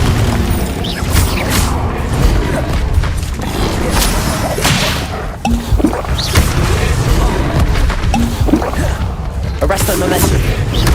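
Repeated Confringo fire-blast spells in Hogwarts Legacy: dense whooshes, booms and whip-like cracks over busy combat noise and game voices, loud and continuous.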